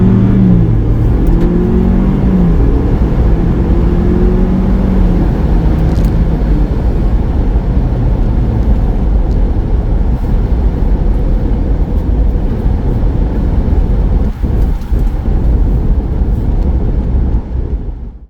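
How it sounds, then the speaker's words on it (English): A car pulls away from a rolling start of about 10 km/h at full throttle, its engine roaring loud and close without letup, pitch rising early on, before cutting off abruptly at the end. "starting off with a rolling start and jumping on the throttle"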